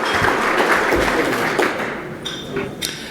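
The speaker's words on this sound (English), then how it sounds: "let's give one more round of applause to our 21-22 3C2A honor roll student athletes" Audience applause for honor roll student athletes at a 3C2A scholar-athlete celebration, a dense, sustained round of clapping that holds steady and then thins out near the end.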